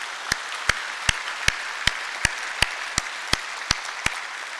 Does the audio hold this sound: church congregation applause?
yes